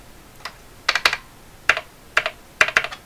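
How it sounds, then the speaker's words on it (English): Keys tapped on a Canon P101-D printing calculator: a few isolated clicks, then short bursts of two to four rapid, sharp key presses with gaps between them, close up and crisp, with no printing motor evident. "I love a calculator that prints, that makes noise"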